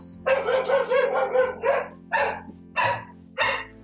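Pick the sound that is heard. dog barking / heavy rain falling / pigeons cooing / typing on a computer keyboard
dog barking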